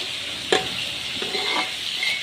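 A spoon stirs spices into chicken and potatoes frying in a pot for chicken khichdi, giving a bright frying hiss with a couple of clear scraping strokes against the pan, close up with no talking.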